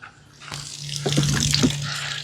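Water from a pressure washer hose starts flowing partway through, a steady splashing rush like a running tap, near and fairly loud.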